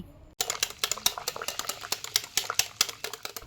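Egg batter flavoured with vanilla essence is beaten in a bowl for a bread-and-egg pudding, a brisk run of rapid clinking whisk strokes against the bowl, close and steady, with no talking.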